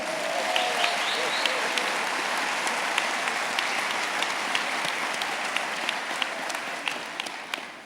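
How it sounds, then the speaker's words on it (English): Broad, steady applause from a large crowd at the CSUN President's Convocation in 2014, with a few louder individual claps standing out. Faint crowd voices sit under the continuous clapping. "give the person to your left and right a round of applause"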